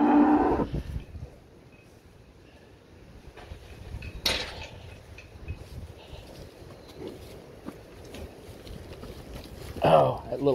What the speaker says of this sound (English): Get that cow before she goes in that chute.